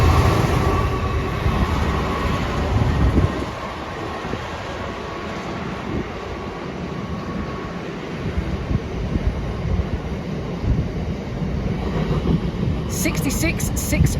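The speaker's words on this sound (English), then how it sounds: "And there's a freight coming in." A Class 66 diesel freight train pulls into Reading station on the Great Western Main Line with a loud, steady rumble and grinding wagon noise that continues throughout and eases slightly after the opening seconds.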